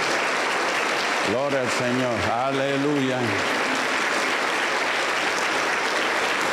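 Steady applause from a church congregation fills the whole stretch, with voices briefly singing or calling out over the clapping in the middle.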